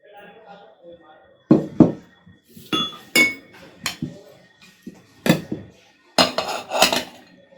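Whole spices for homemade tikka masala powder pounded in a mortar, giving sharp, clinking knocks in irregular bursts, some single and some in quick clusters, close and fairly loud, with a voice talking between the strikes.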